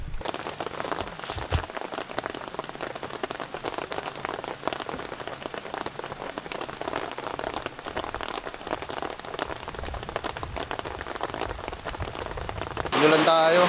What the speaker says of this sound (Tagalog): Inulan tayo.